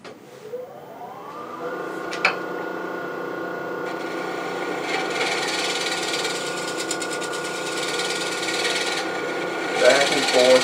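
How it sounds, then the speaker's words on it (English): A wooden bowl turned on a lathe being shear scraped: a steady humming motor tone under a continuous close rasping scrape that swells and eases, with a light tap early and brief louder scuffs near the end. "So we're going to do that with a bit of a shear scrape"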